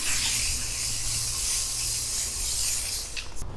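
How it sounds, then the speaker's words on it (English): Iron remover sprayed onto dirty car wheels during a detailing job, a steady close hissing spray that runs continuously for a few seconds before stopping. "I'll give you a few sprays of iron remover here on your side as well"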